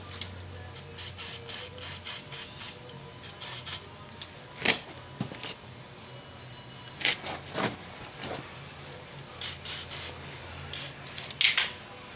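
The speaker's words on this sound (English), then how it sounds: "Just going to give this a good dose of WD-40 and let it sit for a minute." WD-40 sprays onto a tie rod on a 2006 Ford Focus in short, sharp hissing bursts, about a dozen close spurts in uneven clusters with quiet gaps between.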